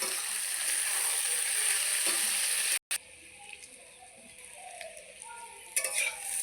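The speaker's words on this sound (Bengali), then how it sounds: "তো দেখো হালকা হালকা কিন্তু ভাজা হয়েই আসছে" Garlic, onion and boiled jackfruit fry in hot oil with a steady, bright sizzle. After a brief cut the sizzle turns quieter, with soft stirring scrapes.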